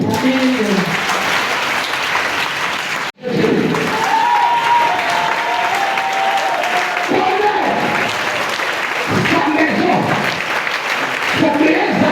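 A church congregation applauding at a Sunday service, loud sustained clapping that fills the room, briefly broken by a sudden drop before resuming, with voices mixed in under the applause.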